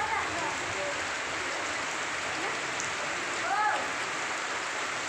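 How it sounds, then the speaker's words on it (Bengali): Heavy rain pours down during a Kalbaishakhi storm in a Bengali village, a dense steady wash of falling water at moderate level throughout, with faint chirping or voices briefly rising above it. "বৃষ্টি নামছে,"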